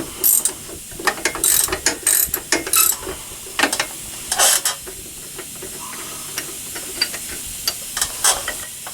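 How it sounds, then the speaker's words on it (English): A ratchet wrench loosening the lower strut bolts on a Chevy Silverado during a leveling kit install, with repeated fast pawl clicking in bursts, close and crisp, over a steady hiss and pauses between runs. "Now we're going to remove the 2 bolts holding the bottom of the strut."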